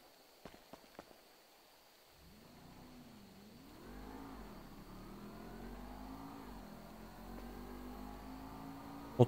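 A motorcycle engine in a video game starts up and revs, rising and falling in pitch before settling into a steady drone, preceded by a few light clicks.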